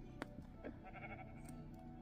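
A sheep in the Minecraft video game gives a short, faint bleat over a low, steady background hum, with no talking.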